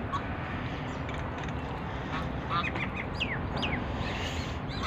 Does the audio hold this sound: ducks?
yes